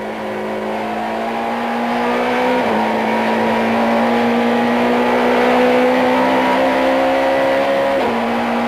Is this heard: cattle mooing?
no